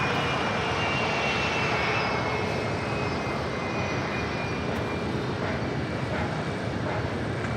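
A United jet airliner lands at LAX with its thrust reversers on, a loud, continuous roar of engine noise that holds steady for several seconds without any voices.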